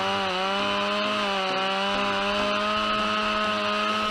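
A Stihl MS-881 chainsaw cutting into a large tree gives a loud, steady, high-revving engine whine that holds without pause, close and unbroken for the whole stretch.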